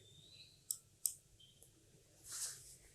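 Two sharp mouse clicks land about a third of a second apart, quiet and close, followed by a faint soft rustle.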